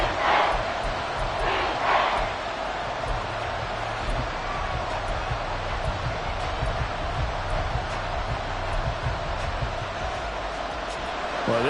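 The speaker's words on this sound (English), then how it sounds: "this crowd is making an impact right now" A packed football stadium crowd at a Buffalo Bills game roars loudly and continuously, a dense wall of cheering and shouting that swells slightly at the start and holds steady throughout.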